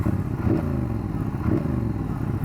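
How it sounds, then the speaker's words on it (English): A Triumph Speedmaster motorcycle engine idles close by with a deep, throaty exhaust burble, steady with slight rhythmic pulses and no voices. "it has a really nice grunt and burble to it"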